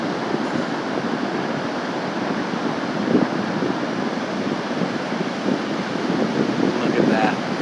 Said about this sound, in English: Crazy wind. You can see that water out there.